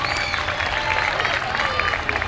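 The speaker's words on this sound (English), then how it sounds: "Let's give everyone a big round of applause from Class 4 Junior High School Drill Team." A crowd at a street parade applauds a junior high school drill team, a short dense burst of clapping and cheering close by, mixed with a voice over a loudspeaker.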